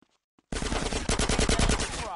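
Rapid automatic gunfire in the video game GTA San Andreas remake, a loud burst of closely spaced shots rattling continuously after a short silence.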